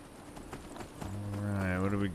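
Horse hooves clip-clop in modded Skyrim, a few soft, uneven thuds up close, followed by a rising, drawn-out voiced sound, with talk around them.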